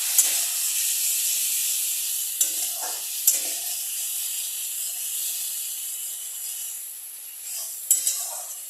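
Onion and spices fry for a katla fish curry after a splash of water goes in, a steady, close hiss of sizzling broken by a few sharp spatula taps, with no voices.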